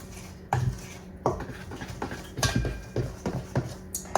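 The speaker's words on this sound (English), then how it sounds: "I'm gonna give this a good stir it up real good." Red velvet brownie batter being stirred in a bowl: repeated knocking and scraping strokes of a spoon against the dish, uneven in rhythm, close and fairly quiet, and no talking.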